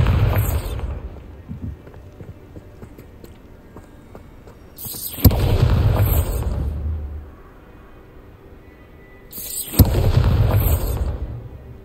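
Spell explosions from the Bombarda charm in Hogwarts Legacy burst three times, each a sharp loud blast followed by a rumbling decay of about two seconds, spaced roughly every four to five seconds over quiet game ambience.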